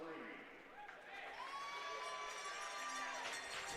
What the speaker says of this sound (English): here's some Bulldogs fans cheering